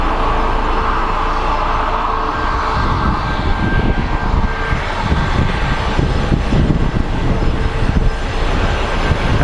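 Southwest airliner taxiing slowly at Sky Harbor International Airport on a windy day, its engines giving a loud, steady roar with rumbling low end and a thin whine above, continuous and fairly close with no talking.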